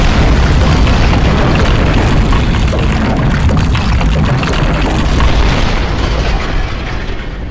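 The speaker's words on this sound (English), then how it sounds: "I'm gonna guess he exploded." A character explodes in the Cayne video game, a loud sustained booming roar with a thick rumbling low end that holds for several seconds before easing off slightly at the close.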